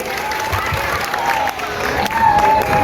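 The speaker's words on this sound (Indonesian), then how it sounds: "Tepuk tangan dulu." Applause from an audience of pesantren students at an Islamic boarding school ceremony for Indonesia's 79th Independence Day, a steady wash of clapping with crowd noise and voices mixed in throughout.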